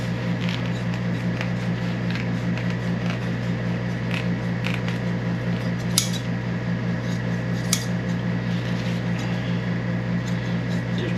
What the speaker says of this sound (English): just grab some scissors and start trimming them all off